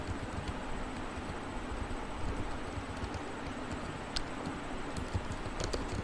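Code is typed on a computer keyboard as soft, rapid key clicks run under a steady hiss of background noise, close but quiet, with no talking.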